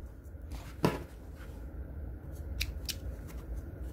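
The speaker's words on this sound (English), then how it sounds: "I'm snipping the threads that were inside." Scissors snipping loose threads inside a small sewn fabric gift-card wallet: one crisp close snip followed by a few lighter cuts, over a steady low background hum.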